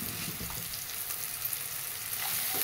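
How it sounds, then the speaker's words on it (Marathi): Tomatoes sauté with turmeric and salt in a hot pan, a steady close sizzle with soft stirring scrapes throughout, no voices. "परतून घेऊया झालं."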